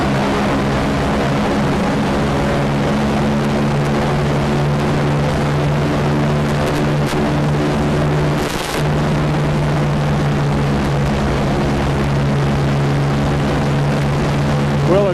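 Droning propeller engines of a Boeing B-29 Superfortress bomber heard from inside the cabin in flight, a loud steady hum with strong tonal throb holding for the whole stretch.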